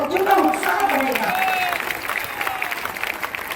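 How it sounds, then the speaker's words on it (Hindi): An audience claps at a school event in Azamgarh where students receive chocolate and a plant. Steady applause runs under a voice speaking over a loudspeaker, softening slightly toward the end. "अगर आप ताली बजाते रहेंगे तो बच्चों का उत्साह बढ़ेगा।"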